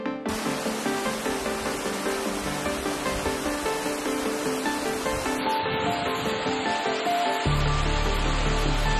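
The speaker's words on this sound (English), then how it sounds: "we just stopped at that beautiful waterfall" A waterfall along the Tahoe Rim Trail near Relay Peak rushes as a steady, dense roar of falling water. It stays close and continuous throughout, with a brief deeper rumble near the end.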